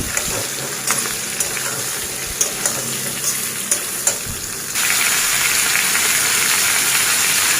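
Sliced ridge gourd frying in a pan for a light fish curry, a loud constant sizzle with scattered spatula taps and scrapes, the hiss growing fuller partway through; no talking.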